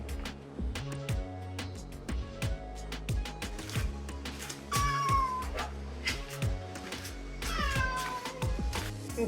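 A stray cat meows repeatedly up close, rising, plaintive calls scattered through the clip, over a background of rhythmic clicking and tapping; people speak softly now and then.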